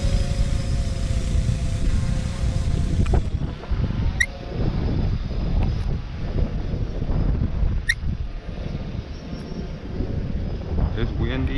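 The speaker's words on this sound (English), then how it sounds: "It's kind of windy out here." Strong gusty wind buffets the microphone outdoors with a dense, continuous low rumble throughout, while a drone flies nearby and someone talks intermittently over it.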